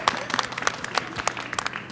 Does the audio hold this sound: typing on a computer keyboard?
no